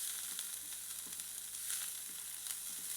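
Small shallots sizzle in hot oil in a pan, a steady close crackling hiss that carries on alone from start to finish.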